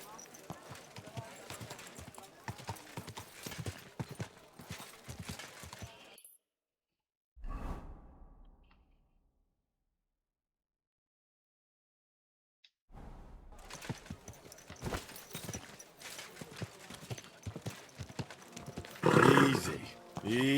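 Rhythmic horse hoofbeats in Kingdom Come: Deliverance 2 clip-clop under bursts of voices, cutting to near silence midway before the galloping and talk return.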